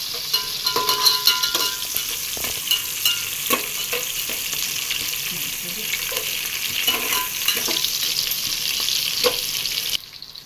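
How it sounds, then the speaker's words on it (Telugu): Six green chilies frying in hot oil toward browning, a steady close sizzle with scattered stirring scrapes and clicks throughout, no voices, ending abruptly near the close. "సరదాగా పచ్చిమిరపకాయలు ఆరు ఆరు పచ్చిమిర్చి వేస్తున్నాను కొంచెం బాగా బ్రౌన్ కలర్ వచ్చేదాక బాగా మేము ఫ్రై చేయాలి"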